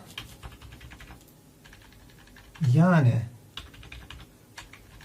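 Typing on a Polosmart lit gaming keyboard gives a run of crisp, close key clacks at a quick, uneven pace, stopping briefly while someone speaks a single word before the clicking resumes.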